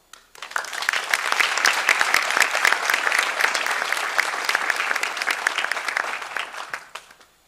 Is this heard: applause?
yes